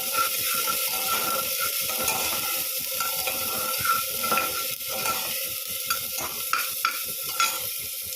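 Tomatoes cooking in a pan over a low gas flame make a steady sizzle broken by scraping and stirring clatter, with no speech heard.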